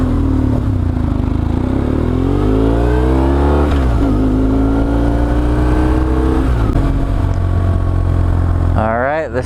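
An adventure motorcycle engine rumbles loud and close, its pitch climbing and falling through several gear changes as it accelerates on a trail ride, with a final quick rev at the end.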